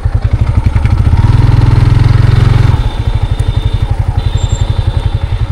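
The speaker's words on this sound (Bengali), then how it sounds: "তাহলে আমি আর ও বাইকে আসতেছি" A motorcycle engine runs steadily up close, a loud throbbing idle with a dense low pulse that briefly steadies into a smoother hum before settling back into its chugging beat.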